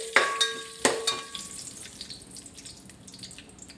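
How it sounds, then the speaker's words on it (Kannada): Cashews sizzling in ghee in a pan, with a couple of sharp clattering hits early on, then a soft, steady frying crackle that fades slightly. "ಈಗ ಉರಿದ ಶಾವಿಗೆಯನ್ನು ತೆಗೆದ ಮೇಲೆ ಅದೇ ತುಪ್ಪಕ್ಕೆ ಒಂದು ಗೋಡಂಬಿ ಹಾಕಿ"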